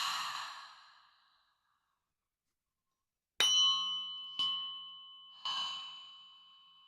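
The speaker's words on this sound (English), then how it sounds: "Maybe breathing in through the nose or the mouth." A long, deep breath drawn in through the nose or mouth during a relaxation session, a soft airy exhale fading into silence, followed by three bright ringing metallic tones struck one after another, each left to decay.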